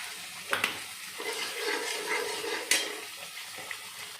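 Fried soya chunks being stirred through thick spiced masala in a pan, a soft continuous sizzle with scraping strokes and a few sharper clinks of the spoon against the pan, close and fairly quiet.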